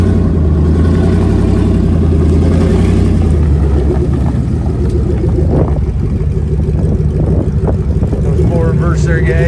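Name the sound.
2002 Ford E350 van engine and exhaust during demo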